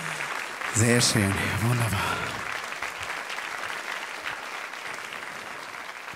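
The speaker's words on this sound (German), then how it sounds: "Einen großen Applaus für Kafkas-Tanz" Audience applause after a Caucasus dance at a live show, sustained crowd clapping throughout, with someone speaking briefly over it near the start.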